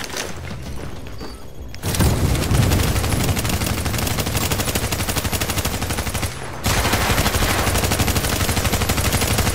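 Rapid, sustained bursts of automatic gunfire from a shooter video game, loud and continuous, with a brief drop in intensity partway through before the firing resumes.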